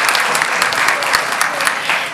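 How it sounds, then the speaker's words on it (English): Loud, close audience applause at an annual town meeting, a dense run of crisp claps holding steady for a couple of seconds with no voices over it. "Yes, they do deserve a round of applause."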